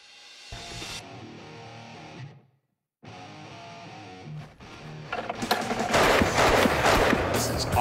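A rare Nepalese Bira gun firing Martini-Henry rounds, heard as loud, heavily distorted bursts close to the microphone, with a brief pause midway before a harsher, sustained volley.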